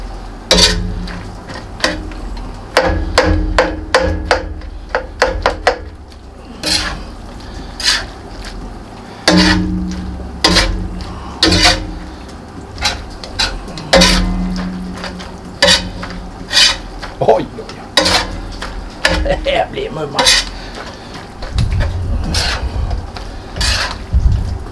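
Spoon scraping and stirring a pasta gratin mixture with cheese in a pan on a Muurikka outdoor griddle, repeated clattering strokes with soft sizzling underneath, close and steady with brief pauses.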